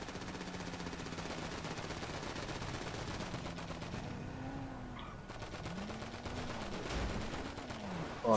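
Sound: gunfire in video game GTA V Online

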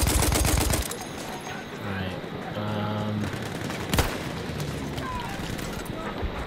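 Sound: grenade explosion amid gunfire in video game Battlefield 1

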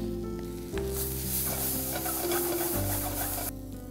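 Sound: green chilies and ginger garlic paste sautéing with onions in pan

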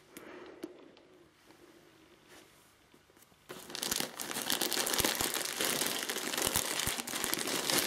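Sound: unwrapping plush toy from its package

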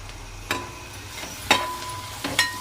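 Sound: sautéing ginger, garlic and green chili for mutton

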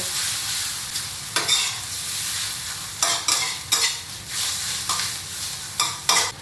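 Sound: stir-frying cooked spaghetti in a pan

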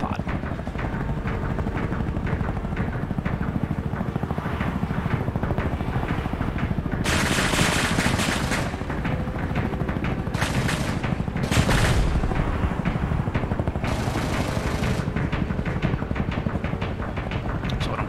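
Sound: chain gun firing in the video game Carrier Command 2

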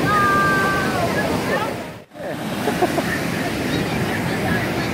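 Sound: ocean waves surf at the beach

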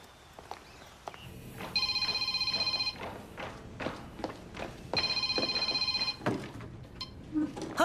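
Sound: mobile phone ringing

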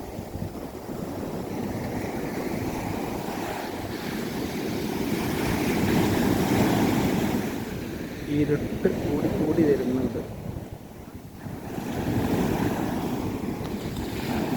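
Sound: sea waves on the shore

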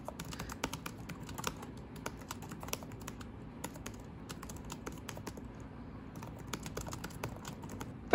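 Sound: typing on Acer Chromebook Spin 311 laptop keyboard

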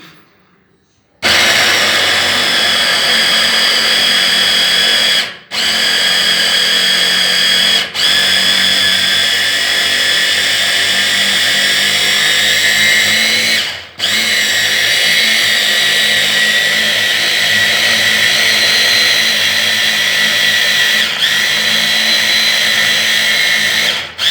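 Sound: blender grinding peanuts

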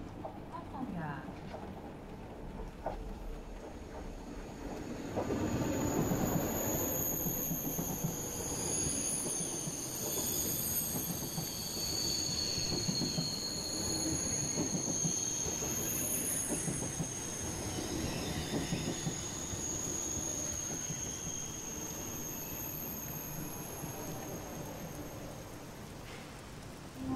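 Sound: TGV train entering station, wheels squealing

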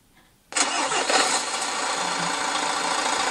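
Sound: V8 tow truck diesel engine starting, sampled sound

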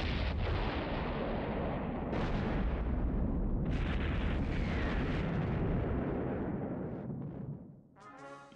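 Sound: missiles launching and exploding in a cartoon

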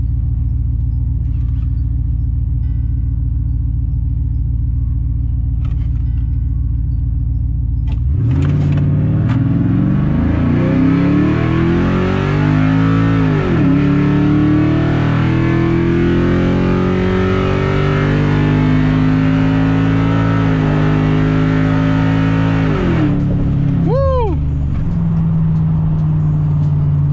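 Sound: supercharged car accelerating in a drag race

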